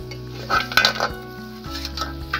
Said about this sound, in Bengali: তোমরা গ্যাসে করলে একেবারে সিমে করে দিয়ে দু মিনিট ধরে কষি নেবে